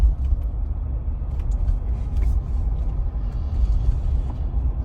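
A Jeep Wrangler hybrid slows under braking with regenerative charging, heard as a close, steady low rumble of the vehicle rolling, with faint, brief higher clicks over the top.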